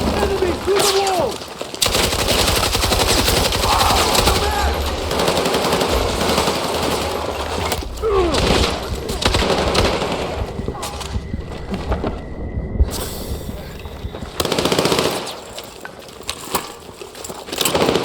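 Machine gun fire in the Battlefield 6 video game mission, loud rapid bursts of automatic gunfire repeating across the scene amid chaotic battle noise, with brief voice lines from characters heard in between.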